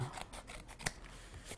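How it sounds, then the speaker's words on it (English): Scissors snip along the edge of a card for a Celtic die-cut background, a few quiet, close cuts in an otherwise hushed room. "I am going to use a pair of scissors and trim this edge off a little bit"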